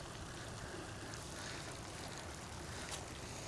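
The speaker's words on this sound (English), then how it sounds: "And now we've got water coming out of the white hose." Water runs out of a portable emergency water filter's white hose in a steady, broad hiss that stays even throughout, quiet and unbroken.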